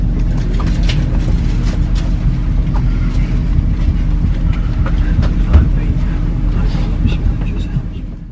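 A fast train rides along with a loud, steady rumble and scattered rattles and clicks. Muffled voices sit beneath the constant roar.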